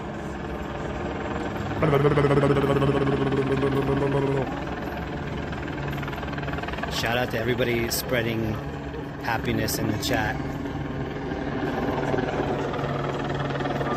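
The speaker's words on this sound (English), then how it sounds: "Let's get a little loud with those choppers over here." Helicopters circle over a Saturday-night protest in Los Angeles held in memory of Tyre Nichols, a steady throbbing rotor drone running throughout while someone talks over it.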